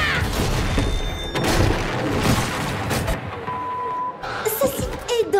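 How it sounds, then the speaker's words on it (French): Booming explosions and heavy thuds with crashing debris in the game League of Legends, loud and repeated, mixed with some talking. "J'aime aussi les explosions."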